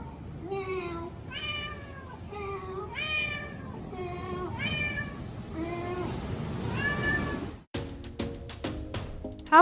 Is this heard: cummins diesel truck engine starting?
no